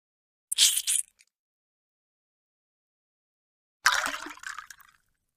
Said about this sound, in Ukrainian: У третю наливаємо таку саму кількість сульфатної кислоти.